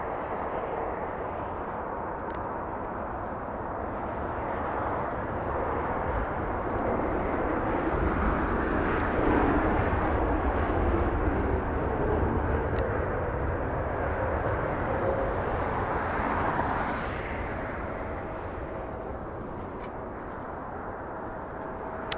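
A broad, steady roar of an airliner at Los Angeles International Airport fills the scene, a passing jet engine rumble swelling slightly in the middle and easing off, heard from a distance with no talking.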